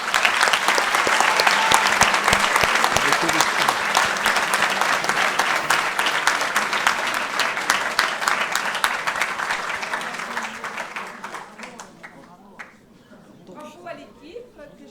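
Dense audience applause at an award ceremony, loud and sustained for about ten seconds before thinning into scattered claps and fading out, with a voice emerging at the end.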